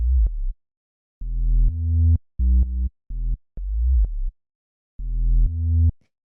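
A deep synthesized minimal house bass plays a choppy, bouncing line of short and sustained notes with gaps of silence between phrases, alone and clear.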